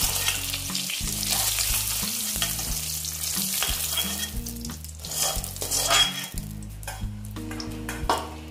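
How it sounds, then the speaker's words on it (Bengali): Potatoes frying in hot oil left over from frying eggs, a loud, dense, steady sizzle with occasional stirring, under background music. "এবার এই তেলেতেই আমি আলুগুলো ভেজে নেব।"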